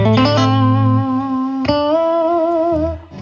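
Electric guitar through a miked-up amplifier with no added effects: chords and sustained notes ring out, a strummed attack near the start and another midway, decaying cleanly. Close, loud and free of voices.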